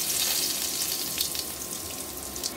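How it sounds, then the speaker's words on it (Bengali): Cumin seeds dropped into hot oil give a steady, close sizzle and crackle of frying that runs throughout without any talk. "দেখো ওখানে তেলটা গরম হয়ে গেছে। আমি এর মধ্যে দেবো একটু জিরে।"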